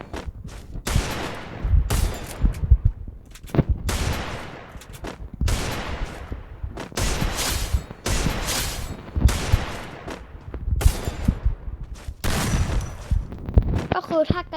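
Rapid gunfire bursts crack and rattle continuously through a shooter video game, dense overlapping shots with heavy low thumps and occasional pauses, loud and up front for the whole stretch.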